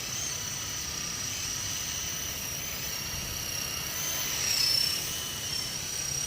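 Sky Rover Renegade toy drone from Walmart flying outdoors, a steady high-pitched rotor whine and buzz that holds throughout, swelling briefly louder partway through as it passes closer.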